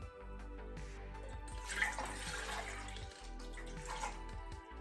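Water pours steadily into an onion-smelling ReadyWise emergency food pouch, a little under four cups, making a continuous splashing, gurgling flow at close range with no talk.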